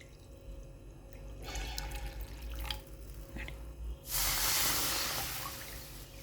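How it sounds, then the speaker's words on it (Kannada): Milk is poured from a measuring cup into a hot pan for poha barfi, building to a steady, close liquid splash and hiss near the end, with lighter drips and rustles before it; no one speaks. "ಇದಕ್ಕೆ ಈ ಮೇಜರಿಂಗ್ ಕಪ್ಪದಿಂದನೇ 1 ಕಪ್ ಆಗಷ್ಟು ಹಾಲನ್ನು ಹಾಕ್ತೇನೆ ರೀ."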